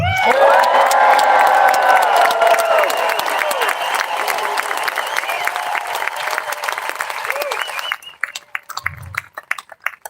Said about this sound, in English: let's hear a cheer for all of you who are true patriots